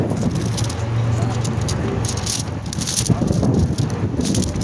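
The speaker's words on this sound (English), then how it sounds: "we got some wind action going" Wind blows outdoors at a street gathering, a steady rushing buffet across the microphone with gusty swells, joined by faint background voices.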